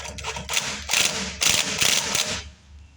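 Bolts are driven against the impeller of a PECO mower leaf vacuum, producing several loud bursts of ratcheting mechanical whirring close by, then a short quiet at the end.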